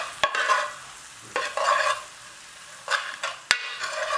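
Pre-cooked dal simmers on low gas in a pan of restaurant-style lamb dhansak, with several scraping stir strokes and a couple of sharp knocks over a faint sizzle, close with no voices.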